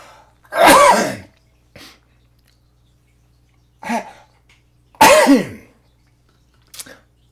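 Several loud, forceful human sneezes in a row, the biggest two spaced a few seconds apart with smaller bursts and throat noises between them, close up and without speech.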